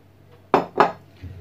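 Metal utensils knock and scrape against a bowl while seasoned meat with grated onion is mixed, two sharp clinks close together then a softer one, close up with no talking.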